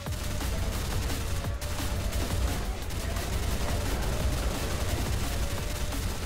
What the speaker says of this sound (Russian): Но турель чуть по чуть работает и... Ха! Типов вырубает!